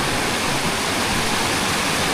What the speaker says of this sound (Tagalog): Ang lakas ulit ng tubig, oh.